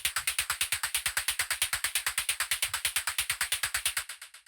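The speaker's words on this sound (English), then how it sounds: "the next sound that we have here is this noise percussion" White-noise percussion passed through a bandpass filter swept by an LFO ticks in a fast, even stream of about forty sharp hits, bright and dry, in industrial ambient techno.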